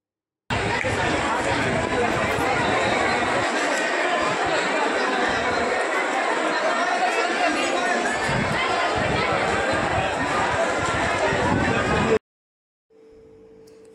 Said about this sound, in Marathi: ही मुखदर्शनाची गर्दी आहे